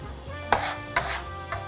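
A dough scraper pushing flour and dough across a work surface. Three short, close rasping scrapes come at roughly even intervals over a quiet low hum.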